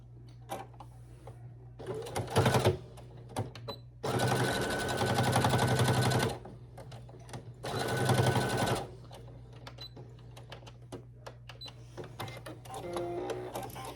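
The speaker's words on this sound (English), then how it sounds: "So I'm just gonna kind of sew a little bit closer in." Sewing machine stitching stretchy fabric for a summer tote, running in three distinct bursts of steady whirring with quiet pauses between, close and loud over a low constant hum.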